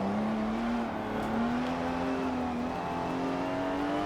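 A racing car's engine in Forza Motorsport 7 drones loudly and steadily under power, its tone climbing slowly as the car drives on, with no talk over it.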